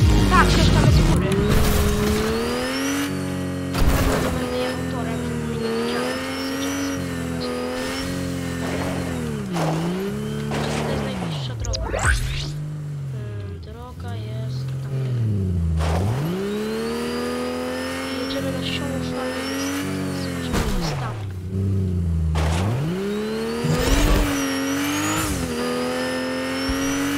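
Car driving in the video game Fortnite, its engine revving up and down in repeated swells and dips over a long stretch, loud and close, with a player speaking over it.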